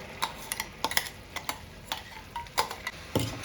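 A spoon stirs ground mint into melted sugar syrup for lemon-mint sherbet, making a series of light irregular clicks and scrapes against the pan over a faint background hiss.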